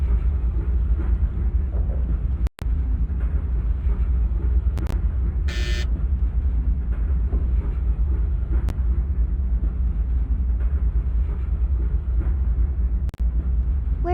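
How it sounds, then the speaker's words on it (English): A train in a train video game slows down, a constant low mechanical rumble droning loudly, broken by a couple of brief dropouts and a short high electronic tone. "Let's see if we can slowly bring down the train's speed"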